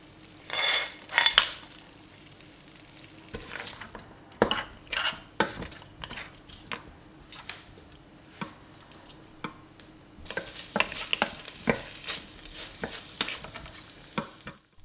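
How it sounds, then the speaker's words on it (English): Star anise, bay leaves, dried chillies, cinnamon and rock sugar are stirred in a pot of hot oil for Taiwanese beef noodle soup, a soft sizzle beneath repeated clinks and scrapes of a utensil against the pot. "Next we'll add in the spices, and they are star anise, bay leaves, dried chillies, cinnamon and rock sugar."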